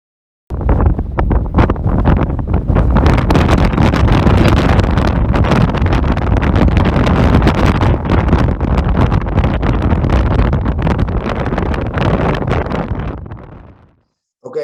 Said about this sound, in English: I just keep the sound on because to show you, that day the wind was like 70, 80 kilometers per hour.